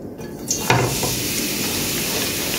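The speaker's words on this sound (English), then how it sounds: "Hear that little sizzle?" Cabbage and bell peppers sizzling in a hot pot: a steady, dense sizzle with a brief clatter as the vegetables go in, loud and close throughout with no talk.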